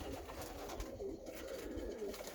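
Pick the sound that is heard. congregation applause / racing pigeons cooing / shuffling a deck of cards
racing pigeons cooing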